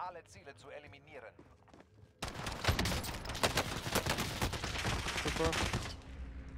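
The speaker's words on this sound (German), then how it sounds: "Hey, Schüsse." Video-game gunfire in Warzone: a sudden loud burst of rapid shots and clattering action starts partway in and continues densely to the end, after quieter game sounds.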